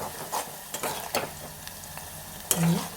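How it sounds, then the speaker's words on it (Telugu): Ginger garlic paste fries in hot oil for a Telugu brinjal tomato curry, a steady sizzle broken by several scraping stirs of a spoon against the pan, close and fairly quiet with no talking. "అల్లం వెల్లుల్లి పేస్ట్ వేసిన తర్వాత ఇట్లా అంటుకున్నట్టు అవుతుంది"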